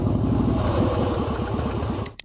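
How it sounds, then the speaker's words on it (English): A couple's motorcycle engine roars on a road through bison country, a loud steady rumbling drone with rapid low firing pulses, close by, tapering off at the end with a brief click. "unaware that their bike's roar disrupts the natural calm"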